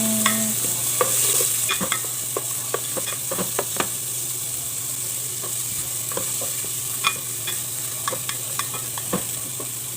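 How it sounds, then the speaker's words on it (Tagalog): Chopped onion goes into oil that is not yet hot and is stirred in a pan for chicken kabsa, giving a steady close sizzle with scattered scraping and clinking spoon strokes throughout, no voices. "kahit hindi pa mainit yung mantika, kaya lalagay mo na yung bombay. Tapos mix."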